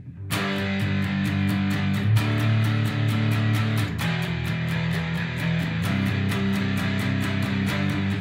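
Fuzz-drenched electric guitar power chords ring out loud and sustained, shifting between a few chords over a steady clicking pulse, with no talking.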